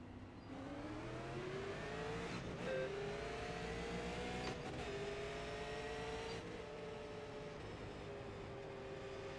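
Race car engine in second gear at Bristol Motor Speedway in a racing game, a loud steady drone with engine pitch rising and dropping through brief shifts, continuous and close.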